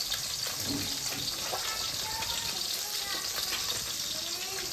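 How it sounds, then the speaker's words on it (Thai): White fish frying in hot oil gives a steady, dense crackling sizzle throughout, close and moderately loud, with faint voices in the background. "เดี๋ยวคุณแม่ทอดปลาก่อน"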